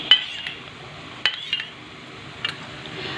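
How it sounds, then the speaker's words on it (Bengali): A spoon stirs three sauces with a little water in a bowl for chilli paneer, giving a few sharp clinks against the dish, spaced irregularly over a soft background hiss. "এই তিনটে সসকে আর কি একটু জল দিয়ে আমি খুব ভালোভাবে দেখো মিশিয়ে মিশিয়ে নেবো"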